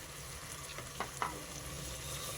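Mint leaves, freshly washed, fry in a pan over ginger-garlic paste for bagara rice, giving a steady soft sizzle with a couple of brief stirring scrapes, heard alone and fairly quiet.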